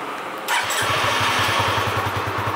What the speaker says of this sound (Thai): มาสั่งสตาร์ทที่รีโมทให้ดูนะครับกด2ครั้ง